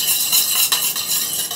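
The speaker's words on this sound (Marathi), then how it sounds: "हे दही जर आपण घोटून घेऊया" Half a cup of curd being whisked in a bowl, a steady close scraping and swishing of utensil against the bowl with no talk.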